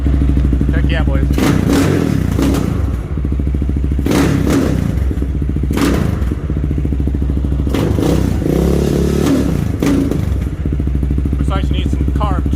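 A Yamaha Raptor 660 ATV engine runs loud and close, idling with a steady throb and blipping up into several sharp revs, with people talking over it.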